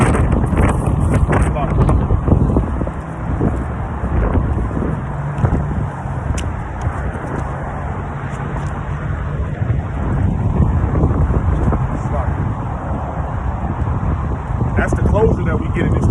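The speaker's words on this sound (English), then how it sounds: "This wind is blowing so hard, bear with me, man. It's mighty windy today" Strong wind blows outdoors, roaring and buffeting the microphone in a loud, continuous low rumble for the whole stretch, with gusts swelling and easing.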